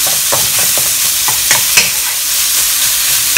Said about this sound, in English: I have with me over here 300 grams of minced chicken. Just going to put them in. I'm frying this over medium heat.